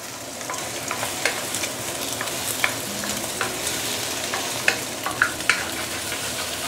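Luffa and eggs being stir-fried in a stainless steel wok, with a steady low sizzle and a spatula scraping and clinking against the metal every so often, close and fairly quiet.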